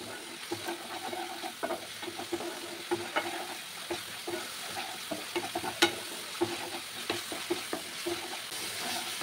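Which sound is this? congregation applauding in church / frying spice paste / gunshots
frying spice paste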